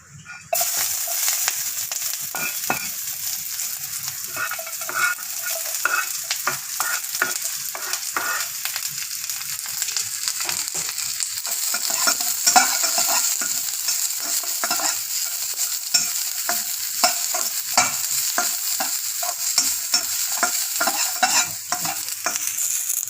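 Vegetables are stir-fried with a little oil and water in a pan for a Papuan papeda and yellow fish soup meal, giving a steady loud sizzle with constant scraping and stirring throughout and no talking.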